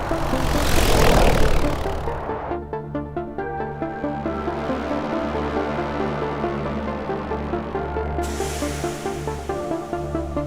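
A loud rushing whoosh gives way to the steady, close whirring buzz of a medical AED drone's propellers flying continuously.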